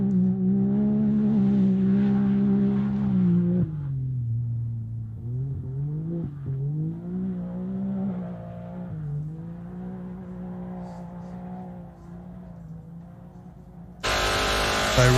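Off-road race truck 6150 driving past at the St George 399 event, its engine droning in a steady, fairly loud hum that slowly shifts in pitch as it moves, then ends in a sudden burst of broadband noise.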